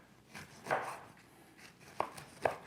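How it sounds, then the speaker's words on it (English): A knife cuts a lemon into straight slices on a board: three crisp, separate chops, one at the start and two close together near the end, quiet and close with no talk. "I'm gonna grab a knife too, and I'm gonna help you. I'm gonna cut some lemon."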